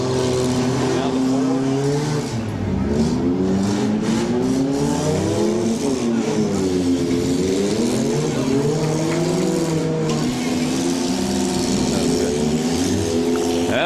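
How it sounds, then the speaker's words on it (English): Demolition derby cars at a county fair rev hard against their rev limiters, several engines droning loud with pitch rising and falling in waves and stuttering limiter cut-outs, crowd and an announcer audible underneath. "You can hear the rev limiters kicking in on a couple of these that are out there."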